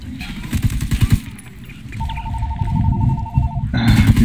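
Telephone ringing in Ghost Recon Wildlands: a steady electronic ring tone holds for nearly two seconds, framed by bursts of rapid gunfire before and after, with faint voices in the mix.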